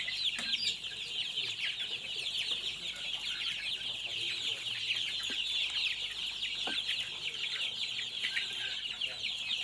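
Free-range chickens clucking on a farm, a dense, continuous chorus of soft clucks and calls at moderate distance, with no speech.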